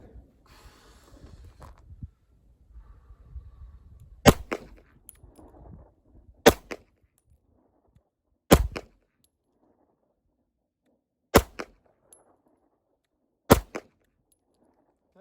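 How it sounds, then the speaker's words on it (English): Five sharp handgun shots fired one-handed with the weak hand, irregularly spaced about two seconds apart, loud and close, with low rustling and shuffling before the first shot. "I'm going to draw and fire 5 rounds, but I'm going to do it with my non-dominant hand"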